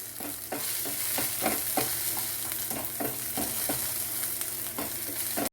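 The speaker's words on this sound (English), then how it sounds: "Roast dry chili and fenugreek seed." Dry red chilies and fenugreek seeds roasting in a couple teaspoons of oil in a pan, a continuous soft sizzle with rhythmic stirring scrapes recurring every half second or so.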